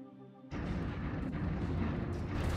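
Weapons fire in a space battle in the strategy game Stellaris, with a battleship among the ships. A brief tonal hum gives way abruptly to a dense, sustained rumble of booming blasts.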